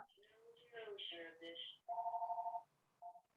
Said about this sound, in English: I don't know whose phone that is.